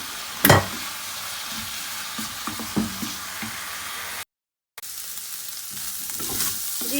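Minced meat frying with salt, red chili, turmeric, cumin and dried coriander, a steady close sizzle with a few stirring scrapes and knocks, no talking.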